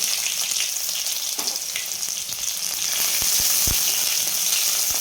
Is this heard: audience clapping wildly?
no